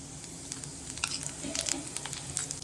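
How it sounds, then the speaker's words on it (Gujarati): Cumin seeds sizzle in a pan of hot oil and butter, a steady close hiss with crackling pops scattered throughout. "હવે આપણે તેલમાં થોડુંક એવું જીરું નાખીશું"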